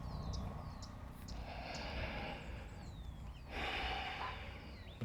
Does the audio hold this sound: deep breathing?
yes